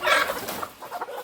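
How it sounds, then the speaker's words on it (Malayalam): A frightened hen clucks close by, several quick agitated clucks in a short burst with no talk over it. "കോഴി പേടിച്ചു പോയി ഞാൻ അതിൻ്റെ മേലെ വെക്കുന്നത് കണ്ടിട്ട്"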